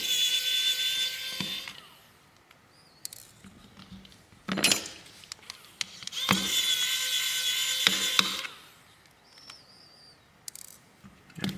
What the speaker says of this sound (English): Let's get that screw out.